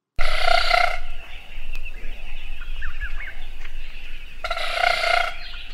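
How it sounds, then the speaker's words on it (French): Rapid wing beats of a broadbill from the southern half of Africa make a buzzing whirr, heard as two short loud bursts near the start and end with quieter ambient sound between. "Ce son est le résultat de rapides battements d'ailes d'un oiseau vivant dans la moitié sud de l'Afrique"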